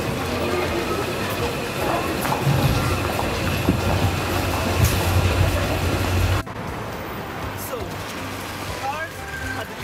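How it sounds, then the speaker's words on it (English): A Paris metro train runs with a steady, loud rumble and rattle of carriages, a cut partway through dropping it to a quieter rolling drone with faint squeals. "The best way to travel in Paris is to take the metro."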